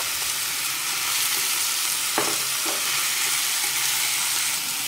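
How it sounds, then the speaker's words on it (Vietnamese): Shrimp and meat stir-frying in a pan over high heat, a loud continuous sizzle with a couple of brief utensil knocks, no voices. "Khoảng 3 phút mình cho tôm vô mình xào."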